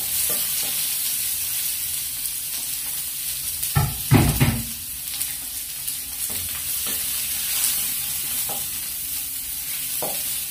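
Garlic sautéing in a pan for pork adobo made with pork hock, a steady bright frying hiss with scattered scrapes of stirring and one louder burst of clatter and sizzle midway.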